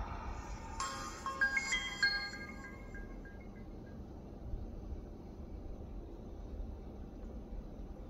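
A Samsung Android phone plays its startup chime, a bright melodic run of tones that rings out and fades within a couple of seconds, followed by a quiet hissing room background.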